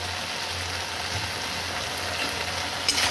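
Spice paste with turmeric and chili powder fries in oil in a pan while cooking a dahi potol curry, giving a steady, close sizzle with light crackle throughout and no talk.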